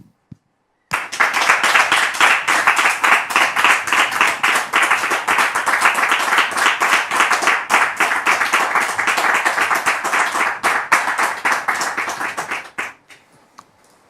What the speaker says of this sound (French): merci de recevoir sous vos applaudissements le frère Elvis